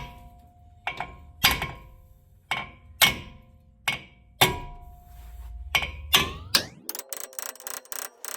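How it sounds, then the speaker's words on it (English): Hard hammer blows strike a brake rotor on the rear of a Hyundai Veloster, about ten loud metallic whacks spaced unevenly, ending in a rapid ringing flurry of hits. "we're going to hammer right here on each location pretty hard"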